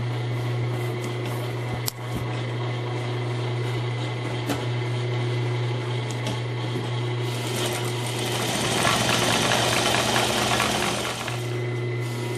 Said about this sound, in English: I'm using a small stitch width carefully turn that corner with a pivot.